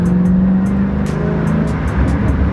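Dodge Challenger engine roaring hard under acceleration inside a tunnel, a dense loud continuous exhaust drone that echoes off the walls throughout.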